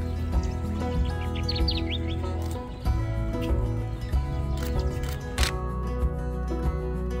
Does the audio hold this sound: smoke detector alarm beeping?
no